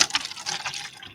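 Hot water pours into a cup in a steady close stream, a bright continuous splash that thins and fades over about a second, with no voices.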